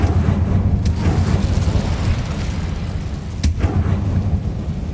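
An Incendio fire spell erupts in Hogwarts Legacy as a loud, steady roaring rumble with a couple of brief sharp cracks.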